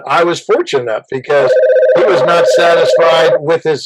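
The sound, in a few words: telephone ringing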